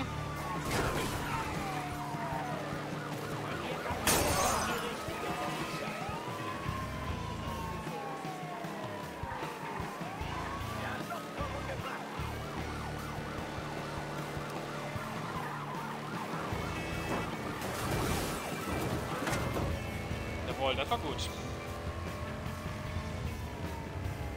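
Police car siren in the video game Mafia III, a wailing emergency siren sweeping up and down continuously over engine and road noise, with sharp louder bursts near the start and near the end.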